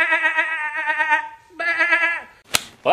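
Sheep bleating from a played video, two long wavering bleats in close succession, loud and near, followed by a sharp slap-like crack.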